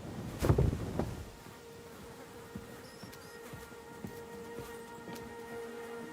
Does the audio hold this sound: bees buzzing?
yes